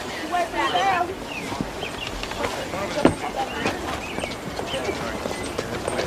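Horse hooves clop on the ground at a livestock auction, a busy irregular clatter of steps under a constant crowd murmur and scattered voices.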